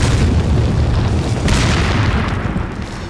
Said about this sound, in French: On va peut-être équiper une grenade.